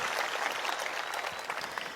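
Audience clapping at an Islamic tabligh akbar gathering with Ustadz Adi Hidayat in Riau, a dense, steady wash of many hands throughout, fairly loud and continuous with no speech over it.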